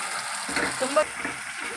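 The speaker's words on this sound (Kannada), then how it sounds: "ನಾವು ಇದನ್ನು 1-2 ನಿಮಿಷಗಳ ಕಾಲ ಫ್ರೈ ಮಾಡ್ಕೋಬೇಕಾಗುತ್ತೆ ರೀ. ಅಂದರೆ ಇದು ಚೆನ್ನಾಗಿ ಮಸಾಲ ನಮ್ಮದು ಫ್ರೈ ಆಗಬೇಕಾಗುತ್ತೆ" Ground masala paste fries with onions in a pan for a paneer masala gravy, giving a steady, close sizzle with light stirring and a faint voice underneath.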